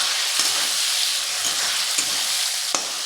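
Capsicum stirred with chopped green chilli and ginger frying in a pan: a steady close sizzle with a few soft scraping clicks from the spatula, no talk.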